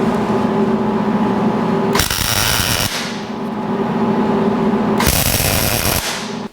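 Tack welding on a steel driveshaft loop bent from quarter-inch steel for a 1949 Chevrolet gasser, with two loud, harsh sputtering bursts of about one second each, close by, over a steady background hum.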